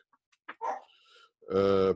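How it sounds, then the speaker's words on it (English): A dog barks once, fairly loud and close, after a few faint indoor sounds, with no one speaking over it. "Oh, there goes the dog."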